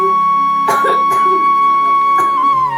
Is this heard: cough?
yes